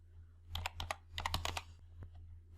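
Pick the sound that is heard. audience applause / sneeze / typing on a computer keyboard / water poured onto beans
typing on a computer keyboard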